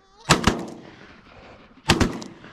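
Two loud shotgun blasts during a goose hunt, roughly a second and a half apart, each with a sharp crack and a short outdoor rumble trailing off.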